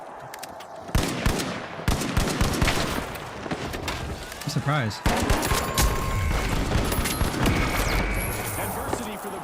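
Video game battle explodes with a loud blast amid dense bursts of rapid gunfire and scattered shots throughout, with a player talking briefly over the chaos.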